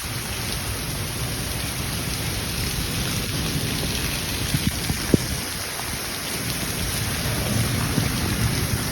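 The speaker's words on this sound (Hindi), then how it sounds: "बारिश शुरू हो चुकी है, देख सकते हैं आप" Steady heavy rain pours down under dark black clouds, a dense continuous hiss with a faint rumble of thunder partway through and no talking.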